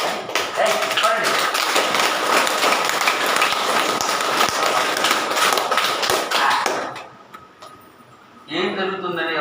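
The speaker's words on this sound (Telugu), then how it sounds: "క్లాప్స్ థెరపీ జరుగుతుందండి" A group clapping hands together in a clap therapy session, rapid dense claps sustained for several seconds and then stopping abruptly, followed by a brief voice.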